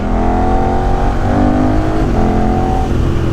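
A 2018 KTM 1290 motorcycle engine revs hard and loud, the pitch rising and falling in quick throttle blips, close by and with no voices over it.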